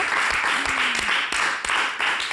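Audience applause at a talk about cancer and a changed life, a dense, continuous wash of clapping throughout with a brief voice near the start.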